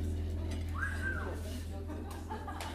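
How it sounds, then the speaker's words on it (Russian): A single rising-then-falling whistle from a member of a live concert audience cuts briefly through the hall's ambience, fairly faint, with soft crowd murmur and a low steady hum underneath. "Кто свистел?"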